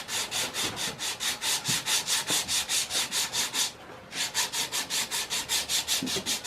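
A blade's bevel is stroked back and forth on a sharpening surface, making an even, rhythmic rasping of about two or three strokes a second, close by, with one brief pause midway.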